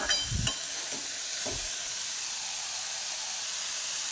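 Moth bean curry is stirred in a frying pan: a few scraping strokes at the start, then a steady close sizzle and hiss of the cooking food with no talking.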